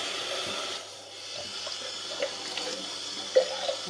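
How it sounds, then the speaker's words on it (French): Tap water runs steadily into a sink to rinse the pitcher of a Hurom H320N juicer, with a few soft clatters of plastic near the end. "le pichet qu'on va rincer"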